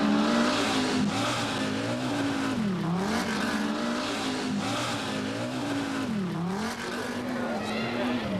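Ericsson's rally car blasts along a stage of the 1988 Cyprus Rally, its engine loud and close, revs climbing and dropping in repeated cycles through gear changes, with a commentator speaking over it.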